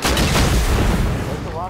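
Loud, dense gunfire in the video game Rust during a clan raid defense, a continuous booming burst that fills the moment up close.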